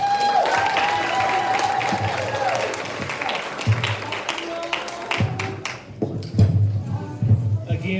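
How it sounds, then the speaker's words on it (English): A crowd applauds students at an art expo and open mic night, with dense, sustained clapping that fills the room, close and loud, with a few scattered individual claps and cheers. "Give the kids another round of applause"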